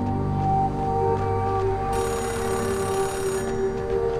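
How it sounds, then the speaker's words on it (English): A payphone rings in the Oxenfree 2 video game, a steady metallic bell trill over a sustained, humming ambient tone, with a brighter layer of ringing cutting in partway through. "or that is a phone ringing, somewhere"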